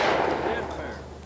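Single shotgun blast at clay targets outdoors, a loud, close report with a broad rolling tail that fades out over about a second.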